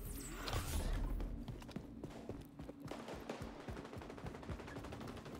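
Gunfire in the XDefiant first-person shooter game, a loud burst up front, then ongoing rapid shots and clattering footsteps in a dense, busy mix.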